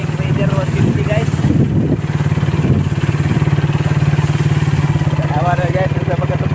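Suzuki Raider 150 motorcycle engine idling close by on a rural path, a loud, steady, rapid thrum throughout, with people talking over it.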